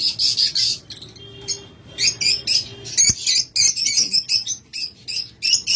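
Opaline red-eye lovebird pairs give sharp, repeated squawking calls in bursts, close and loud, with brief quiet gaps and a faint background hum.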